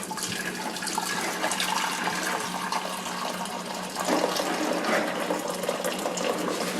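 Water from a pot of boiled pierogi pours out in a home kitchen as the dumplings are drained. A steady rushing splash runs throughout and swells louder partway through, with no talking.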